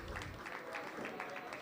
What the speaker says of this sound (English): Let's go ahead and give a round of applause one more time to our students, our young scholars, scientists.